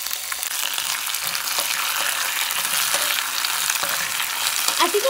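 Onion, tomato and chile frying in a pan, a steady dense sizzle with occasional stirring clatter and a few brighter pops near the end, no voices.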